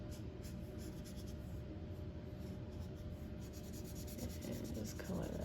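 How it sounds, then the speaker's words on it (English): A red crayon or colored pencil rubs steadily across paper, filling in a large hand-drawn apple with continuous scratchy back-and-forth strokes, close and fairly quiet. "to color an apple this big, you can use a crayon or a colored pencil"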